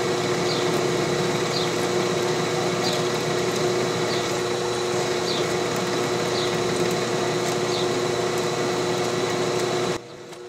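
A countersink bit cuts into 1/2 inch steel plate under a drill, giving a steady, loud, close whining grind with a faint regular ticking, cut off abruptly near the end.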